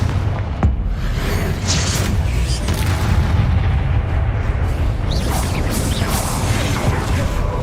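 A Confringo blast spell erupts in the video game Hogwarts Legacy, giving a dense, booming rumble that carries steadily, with a sharp crack near the start and layered impacts and scattered sounds throughout.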